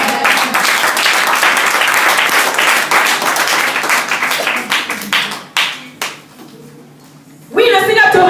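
Church congregation applauding and cheering loudly, a dense wash of clapping that thins out toward the end before a fresh burst of voices and claps returns.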